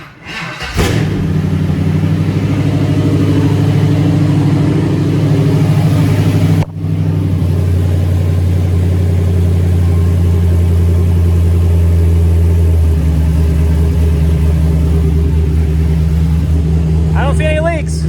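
A 6.0L V8 swapped into a Toyota Prius cranks and fires, then settles into a loud, deep idle with rev swells, briefly cutting out midway before catching again and running on steadily.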